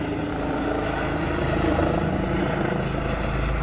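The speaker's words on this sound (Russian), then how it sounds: "Вертолет АДЦ." A helicopter flies overhead near rocky megalith cliffs in the Harz mountains of Germany, its rotor beating in a steady, even thrum at moderate distance, alone with no voices.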